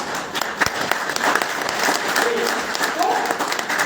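Seminar audience clapping in a dense, steady patter of many hands, fairly close and sustained throughout, with a voice speaking over the applause.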